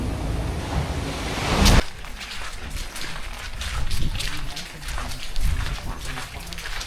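Heavy surf roars continuously with rushing wind and steady rain noise during a typhoon at Puerto Galera, swelling and easing in waves, loud and close.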